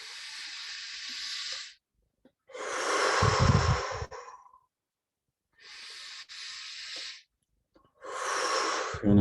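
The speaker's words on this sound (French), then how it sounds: "profonde respiration." Deep, close breaths during a guided meditation: a long airy inhale, a fuller rushing exhale, then another slow inhale and the start of an exhale, with quiet gaps between and no speech.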